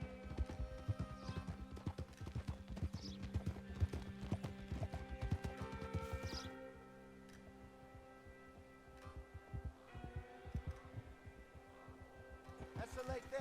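A horse's hooves clip-clop in rapid rhythm in Red Dead Redemption, dropping to a slower, sparser gait midway, with occasional snorts and a voice talking over parts of it.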